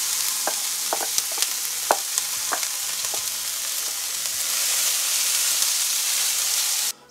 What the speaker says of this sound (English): Oil in our pan is nice and hot. We can go in with our veggies,